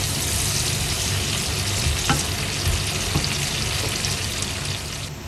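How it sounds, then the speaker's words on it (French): Sautéed potatoes frying steadily in a pan, a loud continuous sizzle with faint scrapes of stirring, a couple of sharp clicks partway through. "Et on va remuer. Et on va continuer la cuisson gentiment."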